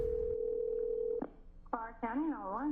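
A phone calls 911 with a steady dial tone, then a short connection click and warbling electronic tones, followed by an emergency dispatcher line picking up.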